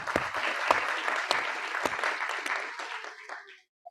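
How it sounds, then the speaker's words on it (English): An event audience breaks into a short round of applause, dense and steady, then stops abruptly. "Yeah, that deserves a round of applause."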